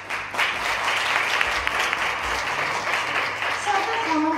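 An audience at a friendship presentation event applauds, producing steady crowd clapping lasting several seconds, with a voice speaking over it toward the end.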